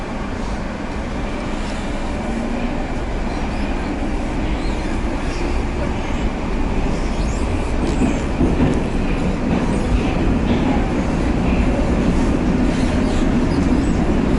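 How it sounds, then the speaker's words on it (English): A Moscow metro train runs through its tunnel with a loud, continuous rumble and roar, faint rhythmic wheel clatter and occasional squeals building toward the end. "Metro now. It's supposed to be the most beautiful metro in Moscow."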